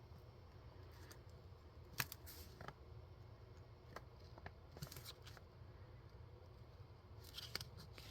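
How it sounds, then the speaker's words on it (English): Paper snips from scissors cutting the ends of an X-ray film envelope, a few short crisp cuts spread across a quiet room with faint rustling, no talking. "now I can just make a quick little cut on the ends of these"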